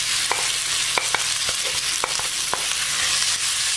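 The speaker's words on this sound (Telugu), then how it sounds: "దీన్ని కూడా 1 నిమిషం వేగనివ్వండి." Grated raw mango fries in a tempering in a pan for mango pulihora, giving a steady close sizzle with scattered sharp clicks and scrapes from stirring. No one speaks.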